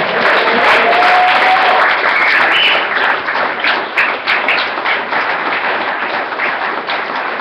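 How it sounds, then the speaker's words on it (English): Sustained audience applause fills the space at an event for a cyclist nicknamed Fixie Dave who rode the Divide, loud and dense clapping with scattered louder taps, steady throughout. "let's give him a round of applause"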